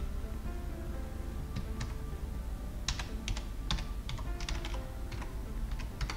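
Keys clack on a computer keyboard in short, irregular bursts of crisp taps, close and fairly quiet over a low background hum.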